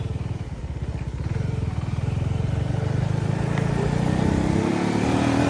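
A motorcycle engine drones steadily and close by as the bike rides along a slippery, rain-wet road, with a rhythmic low pulse that rises gradually in pitch and loudness.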